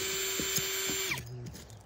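A power drill whines steadily for about a second as it backs out old screws, then spins down and stops, close and fairly quiet, with no talk.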